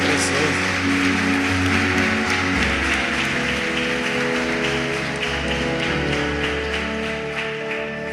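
A church congregation applauds in a steady, rain-like patter of many hands, heard under continuous music with sustained tones throughout.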